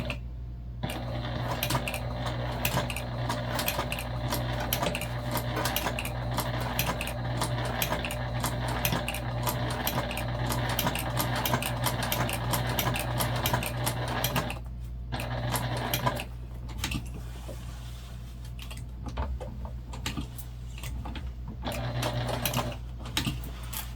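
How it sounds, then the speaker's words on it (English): A sewing machine top stitches a bag tag onto a homemade backpack, humming and clattering steadily at close range for most of the time with brief pauses at the pivots, and no voices. "to attach our bag tag, we just do a top stitch around the whole thing"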